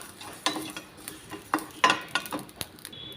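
Rice grains and cumin seeds being stirred and dry-fried in a pan, with scattered scraping clicks and light taps of a spoon against metal, fairly close and sparse, without talk.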